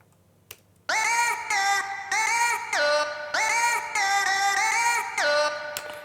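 Vocal-line sample from a song remake, the original sample's notes played through MIDI: bright, harmonically rich vocal-like tones in loud, chopped repeating phrases with short gaps, alone without talk after a faint tap.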